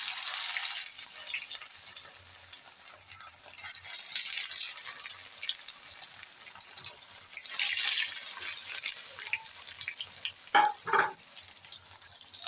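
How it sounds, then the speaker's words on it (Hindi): Chana dal shami kebabs going into hot oil, a soft, fairly faint sizzle with light scattered crackles, then a couple of brief louder clatters near the end. "जी जनाब, तेल हमारा गर्म हो चुका है। अभी हम इसके अंदर डालते हैं"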